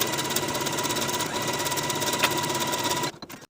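A sewing machine stitches the hem of a T-shirt sleeve in a fast, steady, close mechanical whir, then stops abruptly near the end.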